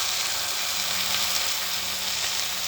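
A steak sizzles loudly in a frying pan, a steady, dense hiss of fat and juices that holds unbroken and close throughout with no voices.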